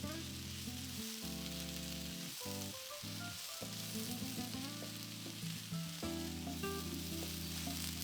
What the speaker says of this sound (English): now we're going to cook the peppers and the onions, and we're going to try to get some nice caramelization on these